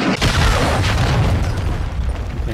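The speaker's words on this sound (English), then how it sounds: "Friendly cruise missile approaching the target." A loud, sustained explosive boom with rumbling low end from a cruise missile hitting its target in a tactical shooter video game, rolling on for a couple of seconds without talk.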